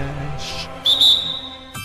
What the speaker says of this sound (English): bro put his whole breath into that whistle